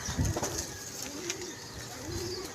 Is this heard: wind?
no